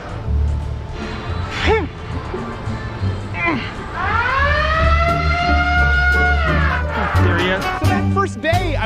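Loud rising and wailing siren tones blare inside a Planet Fitness gym, sweeping upward and holding a steady pitch for several seconds over a busy room background.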